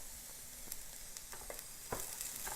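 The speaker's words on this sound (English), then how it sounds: "I've turned my heat to medium, and I'm going to add in the cabbage." Shredded cabbage sizzles in a hot pan over medium heat with softened carrots and bell peppers, a faint steady hiss broken by a few soft stirring scrapes.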